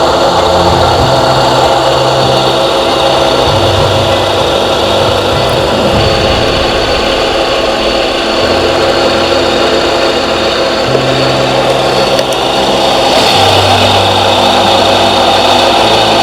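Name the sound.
abnormal bearing noise from Hyundai i20 engine belt tensioner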